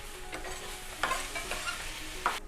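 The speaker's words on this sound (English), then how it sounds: "we're gonna let the onions saute with the tomatoes" Onions and tomatoes sautéing in a pan give a steady, close sizzle with a few sharper crackles and scrapes, and no voices.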